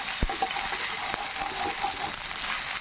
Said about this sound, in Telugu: అల్లం వెల్లుల్లి పేస్ట్ కూడా చక్కగా వేగిపోయింది